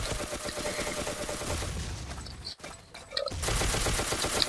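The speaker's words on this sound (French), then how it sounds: "on va prendre la mitraillette" Rapid machine gun fire from the blocky first-person shooter Ace of Spades, dense bursts of close, loud automatic shots with a brief pause midway before firing resumes.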